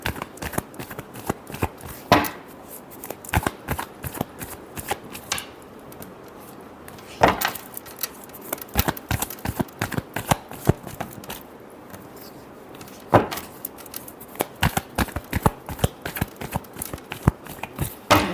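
Tarot cards are shuffled steadily and alone at close range, a long run of papery riffles and sharp slaps with several louder snaps spaced through it.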